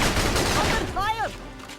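Gunfire from soldiers in the video game Battalion Wars, a rapid crackling stream of shots with a brief voice-like call mixed in partway through.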